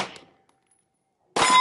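Bullets from a Canik TP9 SFx pistol striking steel targets at a night steel match, a sharp ringing clang fading out, then a second loud impact after a short silence.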